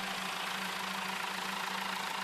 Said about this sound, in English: Tractor's ready to go.